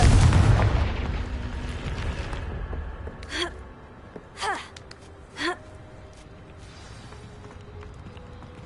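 Confringo blasting spell explosion in the Hogwarts Legacy video game: a loud burst at the start decays into rumbling, and three short sharp whooshing cracks follow at roughly one-second intervals over a steady ambient backdrop.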